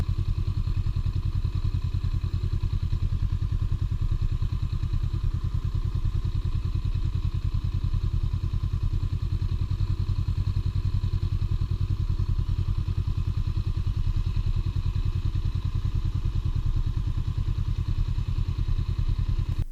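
A Honda Rebel 500 motorcycle circles slowly at low speed, its engine holding a steady, throbbing low rumble with a fast pulsing beat that stays close and constant throughout, with no voices.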